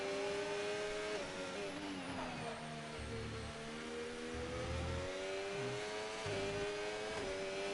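Formula 1 race cars, including a Ferrari running behind a McLaren in a racing video game at the Spain circuit, give a steady whining engine tone that swells and dips through gear changes, loud and continuous.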